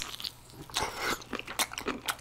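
Close, quiet chewing of squid with spicy fire noodles: soft wet bites and crunchy, squishy mastication in irregular bursts, with no talking.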